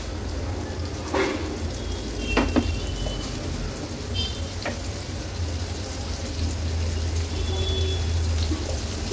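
Pieces of suran, elephant foot yam, sizzle steadily in hot oil in a pan, a continuous crackling hiss with a few sharper pops as each piece drops in.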